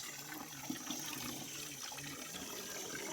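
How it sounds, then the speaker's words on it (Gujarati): Water running weakly from a tap into a bucket, a faint steady splashing trickle that holds evenly throughout with no voices. "પાણી તો નબળું આવે છે ભાઈ"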